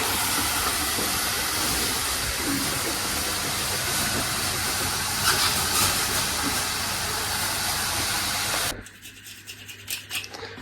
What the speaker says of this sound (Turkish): Şöyle kızarıyor patateslerimiz de